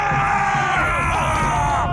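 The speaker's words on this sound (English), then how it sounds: "Running around and shouting." Cartoon Vikings shout and yell together in a loud, overlapping crowd-like clamour as they run around, continuous voices with some whooping and groaning tones.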